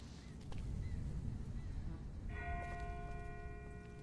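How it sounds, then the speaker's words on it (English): A bell rings once in The Walking Dead video game, setting off a clear, sustained tone that hangs and slowly fades, with a low rumbling background underneath. "That's not the same bell as before. This one's further off."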